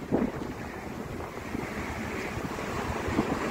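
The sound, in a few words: strong wind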